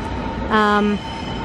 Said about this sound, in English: there's a train coming in too